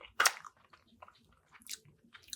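Crunchy pepper shrimp with noodles is chewed close to the mic, with one sharp crisp bite followed by softer, quieter crunches and wet mouth sounds.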